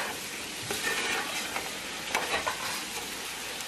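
Mutton pieces browning in plenty of oil for Bhopali korma, a dense hissing sizzle with a few stirring scrapes and bubbling pops, short and uninterrupted by speech.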